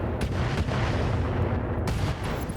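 Heavy weapon fire in the BattleTech video game, loud booming shots with rumbling tails, two or three sharp reports punctuating a dense, continuous roar of battle.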